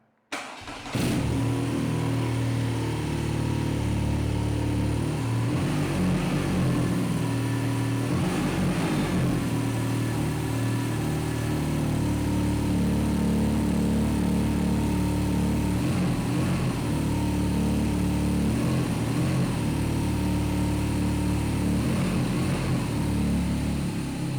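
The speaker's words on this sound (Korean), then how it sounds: "순정 머플러의 배기 사운드 한번 들어보고요" A 2021 BMW R nineT Scrambler motorcycle with its stock exhaust starts up, then idles with a quiet, steady air-cooled burble and several throttle blips that swell and fade, recorded close with no talking.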